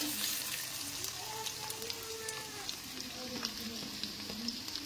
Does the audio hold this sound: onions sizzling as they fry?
yes